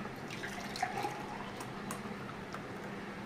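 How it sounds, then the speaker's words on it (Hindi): Homemade lassi pours into a glass in a soft, close liquid trickle with a few gurgling splashes, steady and fairly quiet with no talking. "अभी हम ग्लास में डालेंगे इसको"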